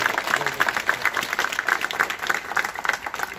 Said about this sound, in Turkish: şehidimizin evladına alkışlarla